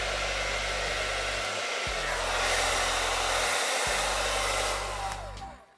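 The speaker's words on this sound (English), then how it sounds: "don't wanna break my wife's hair dryer." Household hair dryer blowing steadily up close while heating a golf club grip for removal, a loud continuous whoosh over a motor hum that briefly dips twice and then winds down at the end.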